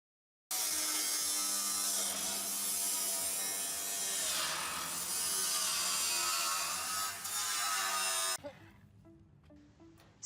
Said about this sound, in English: the reciprocating saw is usually what we use to cut the corner of the panels